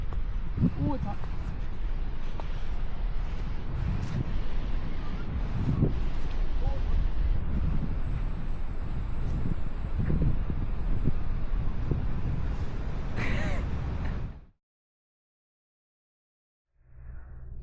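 Strong wind blows across Tathra Beach on the south coast of New South Wales on a cold day, making a steady, loud low buffeting roar on the microphone for about fourteen seconds before it abruptly cuts out.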